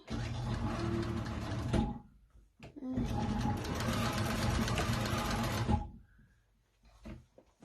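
A Cowboy CB6900 industrial cylinder arm sewing machine stitches in a zipper, running in two loud, steady bursts separated by a short pause, then falling quiet with faint handling sounds.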